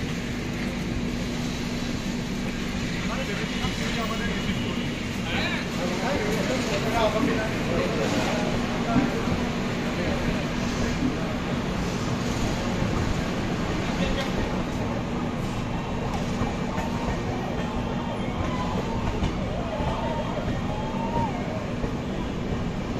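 Steady rumble of the Azad Hind Express heard from inside an AC 3 tier coach, a continuous low rolling roar with faint rhythmic clatter, with no breaks.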